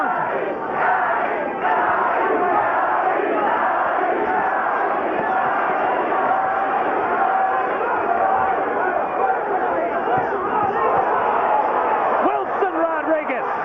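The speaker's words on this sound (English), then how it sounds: "Of the crowd on its feet through all of this round" A boxing arena crowd on its feet roars and cheers continuously, a dense, loud wall of voices with excited shouts throughout.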